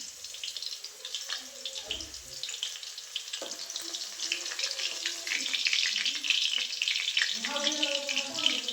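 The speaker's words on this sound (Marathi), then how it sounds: "मिरच्या चांगल्या तळल्या काढून घेतात प्लेटमध्ये" Green chillies fry in hot oil with a steady, fairly faint sizzle and crackle that swells toward the end, with some soft stirring and a brief voice in the background.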